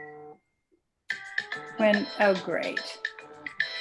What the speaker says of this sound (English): that's my phone. I could turn the sound off.